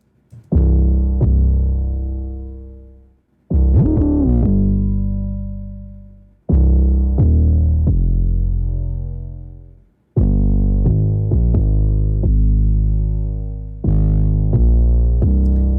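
Deep booming 808 bass notes with long decaying tails play in a slow hip hop pattern, loud and upfront, each hit sliding in pitch.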